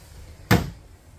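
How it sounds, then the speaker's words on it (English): Soft-closing drawer in the kitchen of a luxury Montana fifth-wheel RV, a single short muffled thump as it settles shut, brief and close, with quiet room tone around it. "Soft closing drawers as well."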